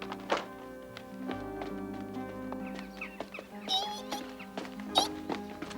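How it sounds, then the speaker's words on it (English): A few dull knocks on a door in an animated gnome cartoon, soft thuds set under a steady bed of background music with bright tonal notes. "Danny, someone's at the door"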